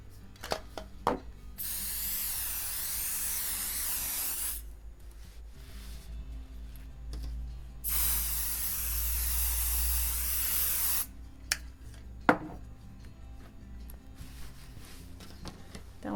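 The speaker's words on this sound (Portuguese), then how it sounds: "E vou passar um pouco de cola spray aqui." Spray glue hisses onto fabric in two long bursts of several seconds each, close and steady, separated by quieter handling noises.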